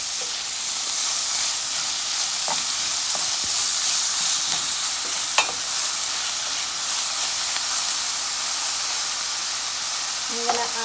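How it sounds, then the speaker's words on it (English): Guyanese bangamary stew seasoned with black pepper being stirred in a pot, a soft simmering sizzle with a few scattered scrapes and knocks of the spoon, fairly quiet and steady. "we want to give this a nice stir"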